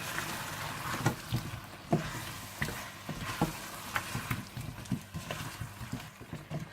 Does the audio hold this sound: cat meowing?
no